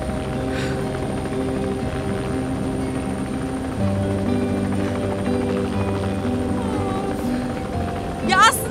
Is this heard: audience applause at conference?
no